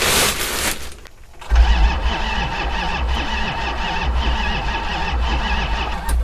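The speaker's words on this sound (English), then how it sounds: "we're going to try it out without the jump pack to see how it cranks" An old car's engine cranks on its own battery with no jump pack and catches, settling into a steady, loud idle close by after a brief quiet pause.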